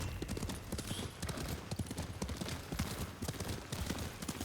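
Horse hooves gallop in a steady, rapid clip-clop rhythm in the samurai video game Ghost of Tsushima, close and fairly loud under a bed of ambient noise.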